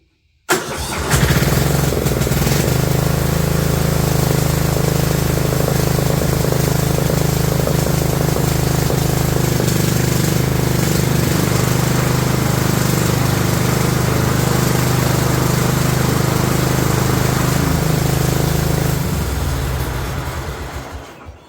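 A small engine on a 2004 Murray lawn tractor catches and runs steadily at a loud, even idle for about twenty seconds, then cuts off and winds down.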